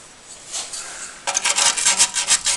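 Brush scrubbing the metal bodywork of a 1976 Simca 1100 under restoration, a soft rubbing at first, then louder, rapid back-and-forth rasping strokes close by, with no talk.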